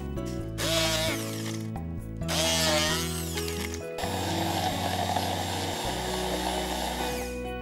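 A kitchen blender grinds walnuts with salt and a splash of olive oil, whirring loudly in short pulses that then settle into a steady continuous roar.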